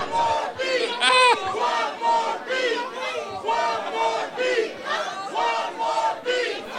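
Crowd at a live beat battle cheering and shouting loudly in sustained waves, many voices yelling together with steady, dense energy throughout.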